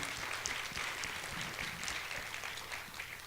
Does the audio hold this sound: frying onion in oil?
no